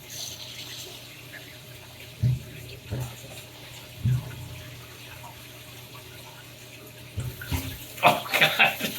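A Japanese high-tech toilet bidet spraying water, a steady hissing flow with a few soft knocks, ending in brighter splashing and rustling near the end.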